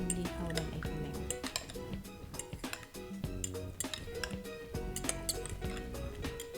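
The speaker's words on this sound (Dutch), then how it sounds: "En nu doen we de blokjes tahu in de eieren. En die gaan we dan even mengen." Tofu cubes being mixed into beaten eggs in a bowl, busy clinking and scraping of a utensil against the dish that continues steadily and fairly faintly.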